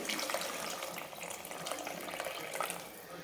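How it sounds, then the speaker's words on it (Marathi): A steady rush of hot water pouring into a pot of rice for biryani, continuous and moderately loud, with no voices. "आपण याच्यात टाकणार आहे गरम पाणी टाकणार आहे शिजण्यासाठी"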